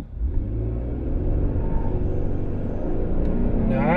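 A 2022 Toyota Tundra pickup with a turbo V6, in tow-haul mode, pulls a 7,000-pound trailer and accelerates hard from a standstill, its engine rumble building steadily and loud inside the cab throughout.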